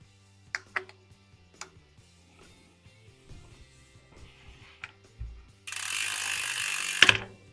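A Trek Slash 7 mountain bike wheel spins with its freehub ratchet clicking, first as scattered faint ticks and knocks, then a denser steady buzz of rapid clicks near the end, close up with no talking.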